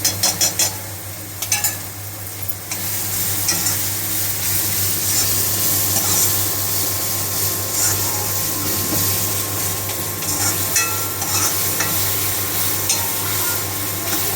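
Onion and tomato with turmeric frying for pithla, a constant sizzle with intermittent stirring scrapes over a steady low hum, no voices.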